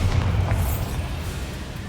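Bombarda spell explosion in the Hogwarts Legacy video game: a single deep, rumbling boom that hits hard and then decays over about two seconds, with no talk.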